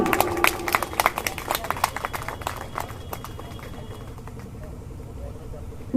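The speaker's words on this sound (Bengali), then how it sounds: "জোরে হাততালি" An audience claps in a burst of loud applause at a school award event, and it fades to scattered claps after a few seconds.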